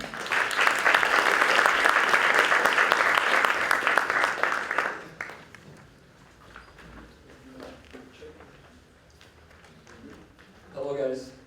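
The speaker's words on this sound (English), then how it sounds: "Let's have a round of applause for Deliverin'." An audience at a tourism startup pitching session claps loudly and steadily for about five seconds, then the applause fades out into quieter room sounds and a voice beginning to speak near the end.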